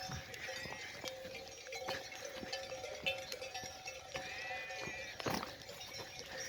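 Sheep bleat faintly in an open outdoor setting, scattered calls over a soft background with occasional light clinks and knocks.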